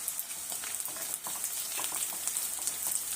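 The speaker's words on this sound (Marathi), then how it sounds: "त्यासोबतच एक दोन मिरच्या हिरव्या ते देखील घालून परतून घेऊया" Onion, garlic and green chillies sizzle steadily in hot oil while being sautéed for an Afghani egg curry, a close, continuous crackling hiss with small stirring bursts.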